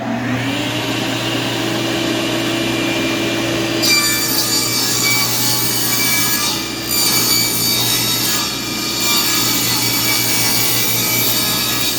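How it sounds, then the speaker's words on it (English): A table saw rips wood clamped in a jointer jig, a steady loud whine and rasp of blade through timber over twelve seconds, with brief dips in pitch as the cut loads and eases. "I'm going to run this through the table saw with one hand"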